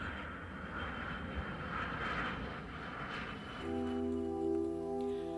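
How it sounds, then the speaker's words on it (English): A Lockheed C-141 military jet transport produces a steady roar of jet engines. Partway through, a strong low drone with a distinct tonal hum joins and then holds. "the 141 was the first jet airplane designed to do a military airlift job"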